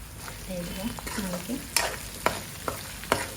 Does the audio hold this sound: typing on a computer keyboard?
no